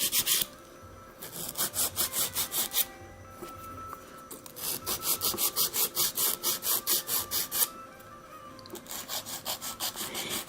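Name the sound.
filing and shaping acrylic nail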